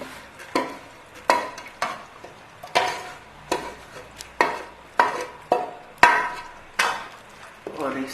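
Daal mash cooked with ghee, green chillies and masala gets stirred in a pot, a spoon striking and scraping the metal in roughly a dozen steady, evenly spaced knocks, close and fairly loud.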